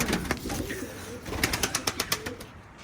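Pigeons in a coop in the morning, several nearby birds giving soft throaty coos, with a quick run of rhythmic flapping or pecking thuds toward the end.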